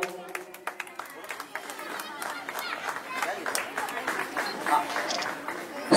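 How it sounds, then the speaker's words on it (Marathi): An audience at a student felicitation ceremony claps in dense, sustained applause that swells toward the end, with some voices mixed in. "सर्वांनी जोरदार टाळ्या वाजवून"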